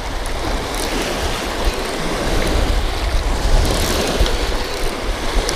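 Wind and waves at a lake bank during bank fishing for channel catfish: steady broadband rush of wind buffeting the microphone with continuous surf-like water noise, loud and unbroken throughout.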